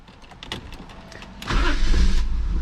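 Faint clicks and rustling precede a BMW E30 M50 swap donor car's engine cranking and catching about halfway through, running roughly at a low rumble with a misfire or vacuum leak before dying.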